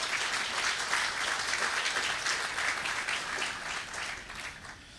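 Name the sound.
audience applause for Dr. Joe Nakagawa and police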